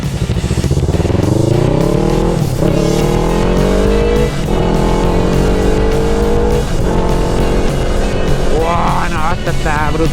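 A Yamaha MT-03 motorcycle pulls hard through several rising revs and gear changes, loud and close, with a rider talking over the engine.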